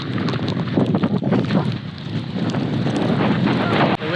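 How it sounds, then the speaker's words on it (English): Strong wind buffets the microphone on a beach during a thunderstorm, with rain adding a constant rough roar, loud and close, gusting unevenly throughout. "Oh, the rain is so strong. Woo! Ah, the wind blew my surfboard."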